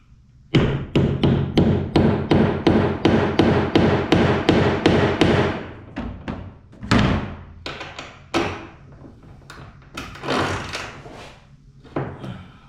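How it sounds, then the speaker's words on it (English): A hammer strikes a rusted hinge bolt on a junkyard 1988 Mazda B2200 truck in a rapid series of loud metallic blows, then slower irregular hits with pauses between them. "Might have to hammer it."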